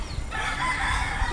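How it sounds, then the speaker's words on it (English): Chicken in Fuengirola, Spain, giving a loud crowing call over faint outdoor background, close and alone. "Oh, there's a fucking chicken there."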